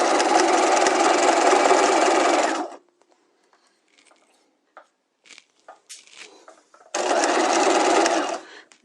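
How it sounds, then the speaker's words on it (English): A sewing machine stitches a seam on an in-seam pocket in two loud, steady whirring runs, separated by a few seconds of quiet handling clicks and rustles while the fabric is turned. "put my foot back down, and continue stitching."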